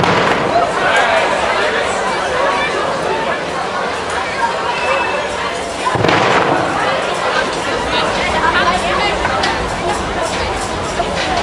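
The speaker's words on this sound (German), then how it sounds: "Mit den drei folgenden Böllerschüssen ist die Domweihe 2022 eröffnet." At an outdoor festival opening, the Domweih 2022 in Verden an der Aller, a ceremonial salute cannon fires a single loud, deep boom midway through. A crowd chatters steadily before and after the shot.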